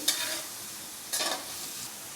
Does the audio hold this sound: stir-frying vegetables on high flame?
yes